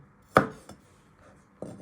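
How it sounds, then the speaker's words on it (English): Garlic is chopped with a knife into small pieces on a board: a sharp chop, a lighter tap, then another chop, close up with no talking. "you're just chopping it into little pieces like that"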